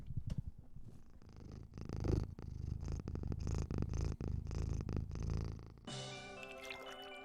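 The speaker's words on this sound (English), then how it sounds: "What, you can't hear the purrs?" A cat purrs steadily in close, rhythmic rumbling cycles, then a brief burst of bright electronic tones cuts in near the end.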